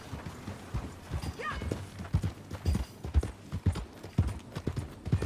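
Horse hooves clip-clop at a walking pace in Red Dead Redemption 2, a steady rhythm of distinct close thuds, joined briefly by a short neigh.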